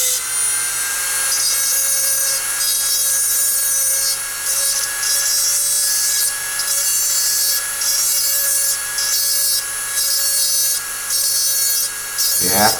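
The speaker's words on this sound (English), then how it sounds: "I'm going to cut the axles loose" A small rotary cutting tool runs continuously while cutting the axles loose on a Matchbox Porsche 911 Turbo, giving a loud, steady high-pitched whine with slight rhythmic fluctuations.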